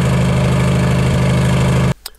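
British Warrior armoured vehicle engine idles as a loud, steady low rumble with a throbbing pulse, close up, then cuts off abruptly near the end, leaving a faint click.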